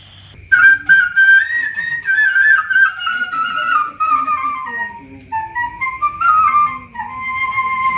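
A local man plays a flute, a clear breathy melody of sliding and held notes in phrases, loud and close, with no talking.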